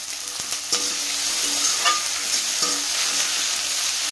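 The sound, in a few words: chopped tomato added to sizzling spiced pan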